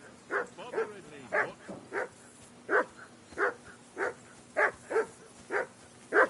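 Mutt, a dog in Kingdom Come: Deliverance II, barks repeatedly in a steady rhythm, about a dozen clear mid-distance woofs with brief whimpery edges over a low hum.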